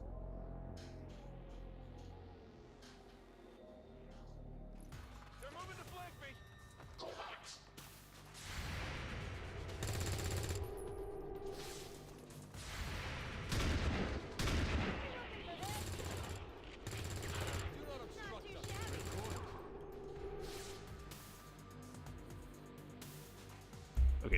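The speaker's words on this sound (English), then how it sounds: "So now we hope we hit some of our Overwatch shots." Overwatch gunfire in XCOM 2: Long War of the Chosen, with several bursts of sharp shots and impacts over a quieter game ambience, some clustered in rapid volleys, with a voice talking faintly at times.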